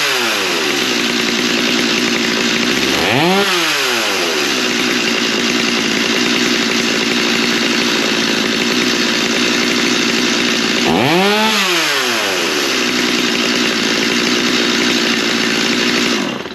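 A Stihl MS271 or MS250 chainsaw runs loud and close at half choke, holding a steady high engine note with two throttle blips that dip and swing the pitch back up.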